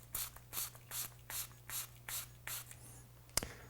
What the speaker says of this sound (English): I like to actually use an atomizer for this step. By spraying the inside of the glass, that gets a nice coating